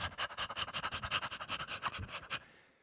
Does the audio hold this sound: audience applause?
no